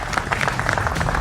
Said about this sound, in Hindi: उसका भी अभिनंदन है जोरदार तालियों के साथ।